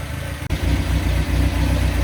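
A TVR Vixen crossflow engine idles steadily while warming up, a loud, close, even low rumble with a brief dropout near the start and no talking.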